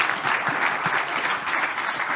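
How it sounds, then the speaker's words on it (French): Audience applause after a conference talk at an energy event in Hauts-de-France, continuous, even clapping from a crowd, close and full through the short stretch. "On peut vous applaudir pour cette conférence"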